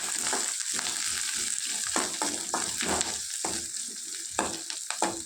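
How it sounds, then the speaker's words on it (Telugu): Onion pieces sizzle and fry in a hot oil tempering, a steady crackle broken by sharp stirring scrapes and bursts of spattering, close and fairly loud with no voices. "ఈ ఉల్లిపాయ ముక్కలు సాఫ్ట్ అయ్యేంత వరకు మగ్గించుకోవాలి."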